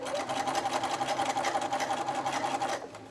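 Sewing machine stitching a ruffle onto a diaper cover, a fast, steady mechanical whir running close and loud before stopping near the end.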